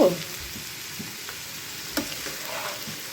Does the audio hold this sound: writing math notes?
no